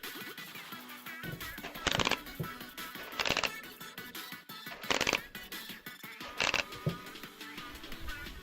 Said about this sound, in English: we'll get a clicking sound